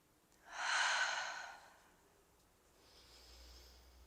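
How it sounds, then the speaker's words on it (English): One slow, deliberate yoga breath: a full airy inhale or exhale swells and fades over about a second, followed by a softer, longer breath after a pause, close and quiet. "I'll just do a little bit of breathing here together."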